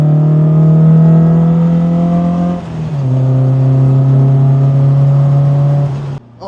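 An old MGB sports car's engine pulls hard on track at Castle Combe, a loud steady drone that dips briefly at a gear change and then resumes climbing, heard close from inside the cabin.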